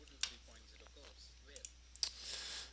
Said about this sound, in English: and then I click save